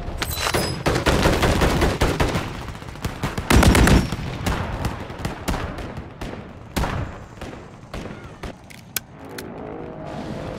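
Bursts of automatic and single gunfire in the Call of Duty Warzone battle royale, rapid sharp cracks in irregular volleys, some close and loud, others more distant, continuing throughout.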